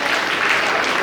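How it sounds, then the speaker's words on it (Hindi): Dense, loud applause from a crowd at a sangeet ceremony, steady clapping filling the whole moment with no clear voices over it. "ताली बजती रहनी चाहिए जब भी यहाँ पे कोई खड़ा रहेगा हमारे साथ"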